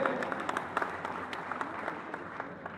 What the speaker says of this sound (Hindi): तरफ से जोरदार तालियों से उनका स्वागत करेंगे